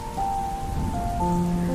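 Heavy rain falling late at night, a dense steady hiss of drops on a surface with a low rumble underneath and a few faint tonal lines, continuous and fairly close for the whole stretch with no voices.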